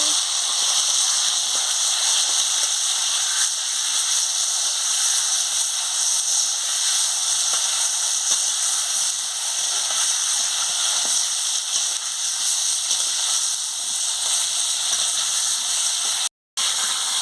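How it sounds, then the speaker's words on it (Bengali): Potatoes and pointed gourd fry in hot oil with a loud, steady sizzling hiss that runs continuously, broken only by a brief dropout near the end. "তেল গরম হয়ে গেছে, আমি আলু আর পটলটা দিয়ে দিচ্ছি। দিয়ে ভালো করে ভেজে নিচ্ছি।"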